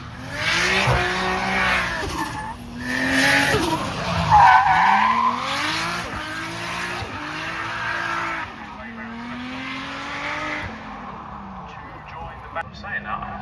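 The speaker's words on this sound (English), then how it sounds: "I think that's Sarah Price in the E36." A BMW E36 drift car slides through a run at a drift event, with long wailing tire squeal and a revving engine rising and falling over several seconds, fairly close and loud, with voices talking over it.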